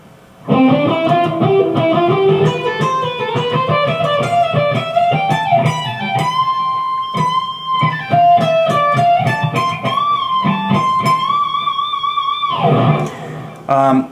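Distorted electric guitar plays the final riff of a song, a fast run of bent and picked notes, loud and close, ending with a brief pause and a last strum.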